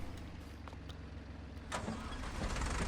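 Deutz tractor engine in Farming Simulator 22 cranking and catching, a low rumbling start that settles into a steady mid-pitched idle, close and moderately loud, with no voices over it.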